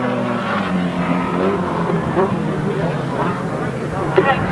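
Grasstrack racing motorcycle engines drone in a 1993 race, a continuous loud mechanical roar that runs under a commentator talking throughout.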